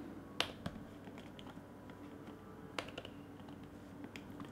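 Typing a headline on an iPad, a few faint, sparse taps and clicks spaced irregularly in a quiet room, with one or two sharper clicks standing out.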